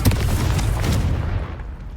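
A Confringo fire spell explodes in the Hogwarts Legacy video game with a deep, loud booming blast that rumbles on for about two seconds, with no talking.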